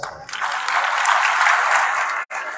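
A room full of people claps together in a steady burst of applause that stops abruptly near the end.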